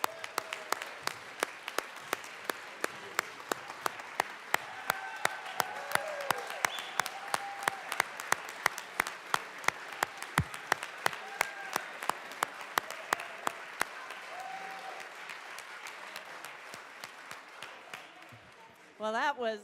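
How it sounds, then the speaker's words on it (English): People in the Colorado House chamber applaud the auctioneers, with sharp, evenly spaced claps standing out clearly over a softer crowd patter and some voices, then ending with a brief burst of sound at the close. "Let's give a big round of applause for our auctioneers here today."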